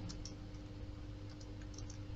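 Quiet typing on a computer keyboard, with soft, irregular key clicks over a low steady hum, faint and somewhat distant.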